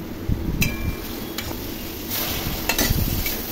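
Potatoes and pointed gourd being stir-fried with prawns in a pan, with a few spatula scrapes and clinks over a steady sizzle, close and moderately loud, no voices.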